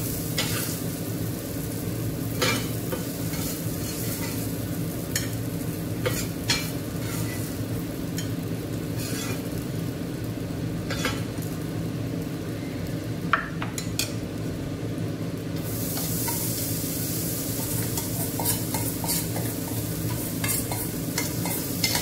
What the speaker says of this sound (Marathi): आपण आता भाजून घेऊया चणे